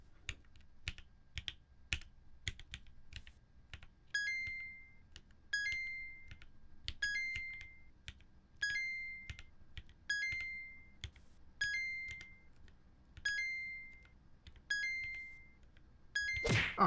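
Computer keyboard keys clatter in quick irregular bursts during a Flappy Bird typing tutor game, mixed with short repeated game beeps and chimes, close and fairly quiet with no talking.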